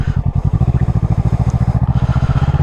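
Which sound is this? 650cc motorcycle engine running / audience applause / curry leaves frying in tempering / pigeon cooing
650cc motorcycle engine running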